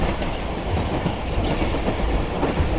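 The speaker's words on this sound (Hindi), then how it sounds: "जंबीर रेलवे स्टेशन पर अप्रोच बना रही है इस वक्त हमारी ट्रेन" Rehman Baba Express approaching Jambir railway station, heard from aboard as a loud, steady rolling rumble with rhythmic clickety-clack of the wheels.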